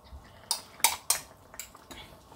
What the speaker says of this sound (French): vous mettez 3 cuillères à café de moutarde